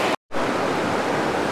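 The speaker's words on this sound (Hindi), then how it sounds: "आपको नदी का शोर सुनाई दे रहा होगा।" A mountain river of glacier meltwater in Uttarakhand rushes past, a loud, steady, close roar of flowing water with a brief dropout near the start.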